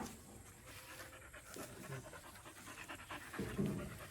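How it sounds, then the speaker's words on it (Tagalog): A dog pants quickly and rhythmically close by, quiet breathy huffs continuing for a few seconds with no talking. "Ito yung aso ni Tilo mga kabayan, no?"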